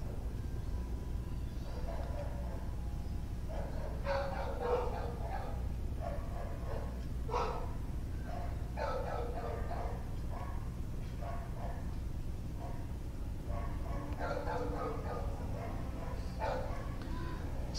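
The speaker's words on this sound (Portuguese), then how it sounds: "Então vocês vão ver latido de todo o bairro aqui" Dogs bark across a residential neighbourhood while a garbage truck climbs the street, several faint, distant barks scattered over steady low background rumble, with quiet talk in the foreground.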